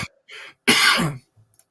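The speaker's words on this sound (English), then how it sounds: "Sorry for a little cough there." A few harsh, close coughs in quick succession, the last one loudest and longest, followed by a soft throat sound.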